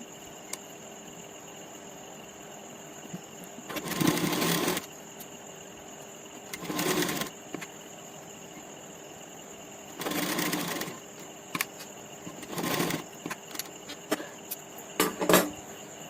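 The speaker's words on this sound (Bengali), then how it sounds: "এবার এই পোর্শনটা তার পাশের দিকটা সেলাই করে নিচ্ছি।" Sewing machine stitching the side seam of a men's half panjabi, heard in four or five short separate bursts of whirring with quiet pauses between them and a faint steady background hum.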